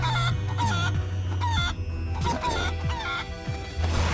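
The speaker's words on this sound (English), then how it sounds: "So we just have to fight as the chicken." A chicken clucking in the video game Guacamelee! 2: repeated rapid clucks and squawks over a steady game soundtrack, loud and continuous throughout.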